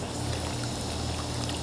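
Water pours steadily from a hose onto outdoor potted plants in a backyard, a continuous close splashing trickle with no pauses and no voices.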